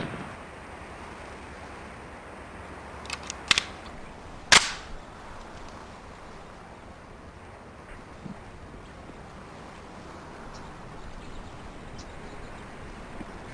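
Two sharp semi-automatic pistol shots from a shooting-range drill in the police tactical game Police Quest: SWAT, one near 3.5 seconds and one near 4.5 seconds, loud and close over a quiet background hiss.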